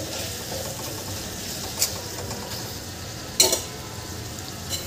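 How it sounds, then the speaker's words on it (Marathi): Bitter gourd and potato vegetable stir-fries in a pan with a faint, steady sizzle, broken by a couple of brief clinks from stirring. "मी अशी अधेमध्ये भाजी परतून घेते आणि पूर्णपणे भाजी शिजवून घेते."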